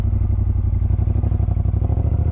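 A 2018 Triumph Bonneville T120 motorcycle engine rumbles steadily while riding, a loud, close, low throbbing pulse with no talking.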